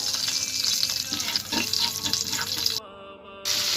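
Nigella seeds and whole cumin crackle and sizzle loudly in hot oil for a tangra fish curry, a dense close hiss with a brief dropout near the end.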